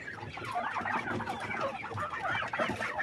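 A heavy-breed quail hen clucking close up while being weighed, a continuous busy run of short clucks and chirps with no talking.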